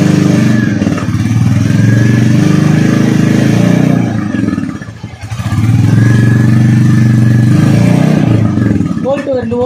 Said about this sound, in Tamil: இப்போ பைக்கை ஸ்டார்ட் பண்ணி காட்டுறேன்.